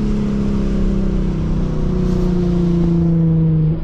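A Lexus RC 350 drifting in the rain holds a loud, sustained engine rev throughout, droning steadily close to the car before easing slightly at the end.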